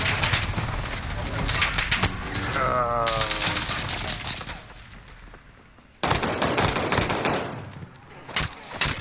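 Video game gunfire erupts in loud, dense bursts across most of the stretch, with a quieter lull in the middle before the shooting resumes hard and continues to the end.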